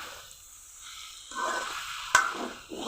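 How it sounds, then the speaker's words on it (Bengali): Boiled noodles go into a pan of frying winter vegetables, with a quiet hiss that swells into a louder sizzle, a single sharp clatter partway through and further bursts of frying, all close and without speech. "এখন সেদ্ধ নুডলসগুলো দিয়ে দিব।"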